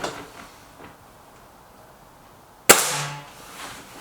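A single sharp crack from a suppressed Stoeger RX20 S2 air rifle, followed by a brief ringing decay as the pellet strikes a metal spinner target, in an otherwise quiet outdoor setting.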